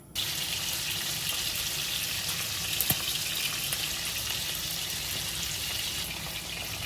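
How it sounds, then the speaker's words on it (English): A whole pound of bacon frying in a pan gives a continuous hissing sizzle close by, with a faint clink midway and no talk. "This is a whole pound package of bacon I'm cooking"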